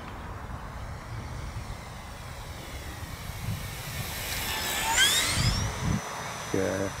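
An E-flite Turbo Timber Evolution 1.5m model airplane's engine drones steadily, swelling louder as it passes low and slow close overhead, then fades, with wind and faint outdoor background throughout.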